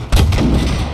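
A Tiger tank's cannon fires in the video game Battlefield V, a single heavy booming thud with a deep rumbling tail, loud and close, with no speech over it.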